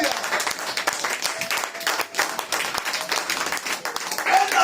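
Church congregation applauding, a dense, steady wash of many hands clapping with crowd noise mixed in, lasting throughout.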